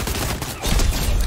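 A fast volley of gunshots in Fortnite striking a boss, loud and continuous with a heavier thumping burst in the second half.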